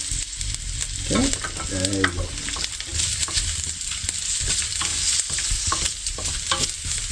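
Garlic fries in a pan of hot oil for a South Indian coconut chutney, with a loud, dense, continuous sizzle up close and brief spoon stirring and scraping, with no talking.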